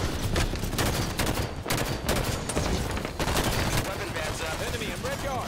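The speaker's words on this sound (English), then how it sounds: "Red yard taking fire." Rapid automatic gunfire in Halo 5 multiplayer, loud, dense bursts of shots repeating in quick succession with brief gaps, close and punchy throughout, with game voice callouts mixed in.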